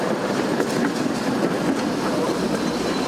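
A city tram runs on newly built rails, giving a steady, close rolling rumble with faint wheel clatter throughout and no talk.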